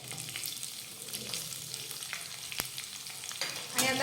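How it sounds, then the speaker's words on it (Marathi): Thin-sliced onion sautéing in a pan with garlic and curry leaves, a soft, low sizzle with occasional light spatula taps and a louder crackle of frying near the end. "कांदा परतून घेऊयात"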